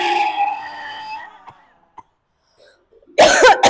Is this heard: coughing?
yes